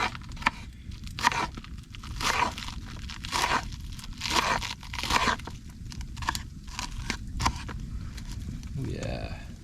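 Iceberg lettuce is cut up and shredded at a campfire in the rain, making repeated close, crunchy tearing bursts in an irregular rhythm over a constant outdoor background hiss.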